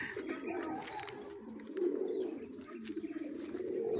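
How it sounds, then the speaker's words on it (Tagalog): A racing pigeon coos softly near its home loft after returning from a training flight, repeated low throaty calls with faint chirps and rustling around it, no talking. "Ayan, second bird natin, si Itim."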